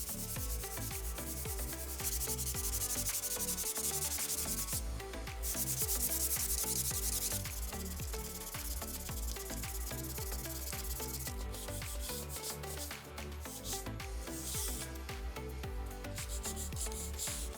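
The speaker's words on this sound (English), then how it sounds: "We sanded the whitewash off with 220 grit sandpaper" Whitewash being sanded off a wooden cedar chest by hand with 220 grit sandpaper: steady back-and-forth rubbing strokes, close and continuous, with slightly harsher bursts partway through.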